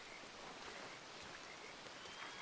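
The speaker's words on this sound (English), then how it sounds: "I can barely hear you over the rain." Heavy rain falls steadily in a dramatic scene, a continuous broadband hiss of drops hitting surfaces, even and unbroken, with no voices heard during the stretch.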